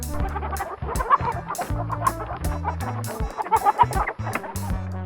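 Several chickens cluck steadily, with overlapping hen calls at close range and no talking.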